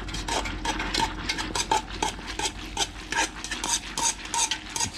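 A spoon scrapes and taps rhythmically inside a pot while foam is skimmed from boiling poor man's honey, a steady series of close, moderately loud metallic strokes with no talking.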